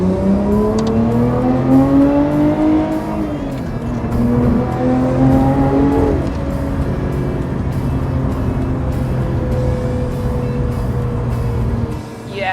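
A 2020 Lotus Evora GT sports car engine drones steadily from inside the cabin, its pitch rising and falling as the car accelerates and shifts, loud and continuous with road noise underneath.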